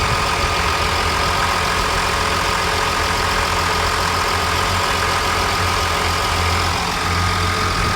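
A 1998 Nissan Patrol with a TD42 turbo diesel engine idling steadily, a smooth, even low rumble that stays constant and fairly quiet for a diesel throughout.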